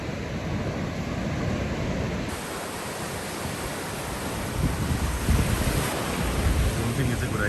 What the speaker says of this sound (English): Finally, the beach, the sea.